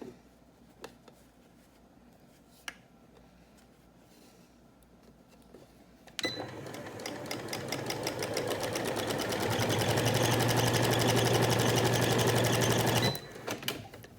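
After a quiet stretch of faint handling, a sewing machine starts up and stitches a cloth face mask in one continuous close run that builds in speed before stopping abruptly.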